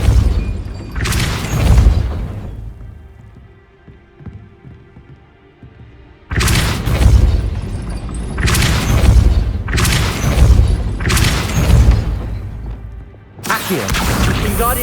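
Depulso spell blasts in the video game Hogwarts Legacy: a string of heavy booming bursts, one early, then four loud hits in quick succession and another at the end, over a low game-ambience rumble.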